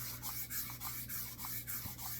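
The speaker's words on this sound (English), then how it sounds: "We're sanding with some 320, and all we want to do is we want to go with the grain," Sandpaper of 320 grit rubs along the grain of a wooden gunstock in quick, even back-and-forth strokes, close and soft, with no voices.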